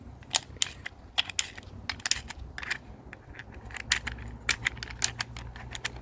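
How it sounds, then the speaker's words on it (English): Nylon balls being loaded by hand into the magazine of a CO2 home defense launcher, a close, quiet series of irregular hard clicks and clacks over a low hum, with no one speaking. "I'm gonna clear out the box and then load up a bunch of nylon balls."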